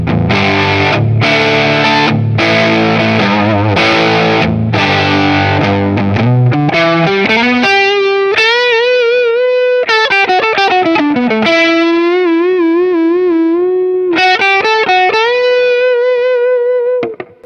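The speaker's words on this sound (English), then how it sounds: "that neck pickup still has nice fullness, but a ton of clarity" Distorted electric guitar played through an affordable Alnico 2 style neck pickup, starting with heavy chugging chords and moving into sustained, bent lead notes with vibrato, loud and continuous with no talking.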